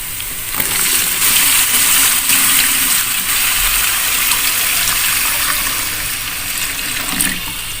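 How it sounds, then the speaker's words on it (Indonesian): Water pours steadily into a cooking pot of Betawi bekasem vegetable soup, a continuous close splashing gush that runs for several seconds with small shifts in strength. "Kita tambahkan air ya guys."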